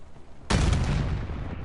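A sudden loud burst of gunfire in a Black Ops 6 Battle Royale match: silence, then heavy booming shots that continue as a dense rumble and stay close and loud for the rest of the moment.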